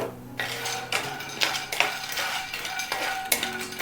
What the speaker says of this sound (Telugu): ఇక్కడ మనం తీసుకున్న సోయా చంక్స్ అయితే డ్రై రోస్ట్ చేసుకుందామండి